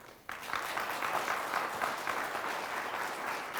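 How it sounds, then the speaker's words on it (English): A crowd at a high school sports game applauds a team called Blue Thunder, a steady wash of clapping that starts abruptly and holds at a moderate, fairly distant level. "Let's have a nice round of applause for the Blue Thunder"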